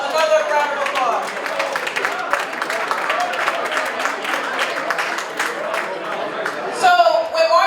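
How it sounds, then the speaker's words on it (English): Applause from an audience honoring Mark Appel at The Bridge Multicultural Advocacy Project holiday event, a steady roll of many hands clapping for several seconds, rising briefly louder near the end. "Let's give Mark Appel another round of applause."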